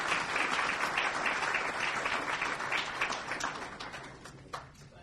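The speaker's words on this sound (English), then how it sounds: "let's give a big round of applause to" Audience clapping for a speaker at a foundation report presentation, a dense burst of applause that fades toward the end.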